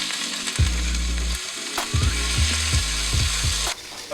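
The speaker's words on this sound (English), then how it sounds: "Now you add your garlic puree." Garlic puree sizzles in half a stick of melted butter for vegetarian chili, a steady close frying hiss broken by several low thumps and scrapes of a spoon or pan, with no talking.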